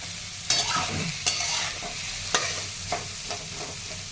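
Onion sautéing in a pan for a mung dal onion chutney, a continuous close sizzle broken by several sharp spatula scrapes and taps at irregular intervals, with no voices.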